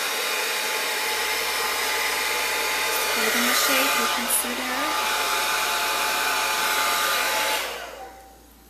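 A hair dryer blows steadily and loudly for several seconds under brief quiet talk, then switches off and winds down near the end, used with hairspray to style high 1940s pin-up bangs and big hair.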